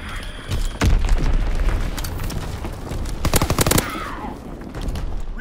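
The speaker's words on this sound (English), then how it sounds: "Dropping Azon bomb." Azon bomb explosions in a WWII shooter game: heavy, loud booms, then a dense burst of rapid blasts like a rolling barrage, with rumbling between the hits.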